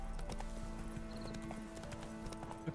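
A horse's hooves clip-clop in a steady galloping rhythm in a video game, with game ambience and faint effects layered underneath at low volume.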